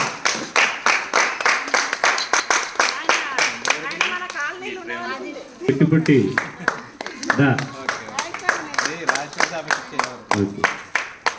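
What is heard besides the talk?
audience clapping at a rangoli competition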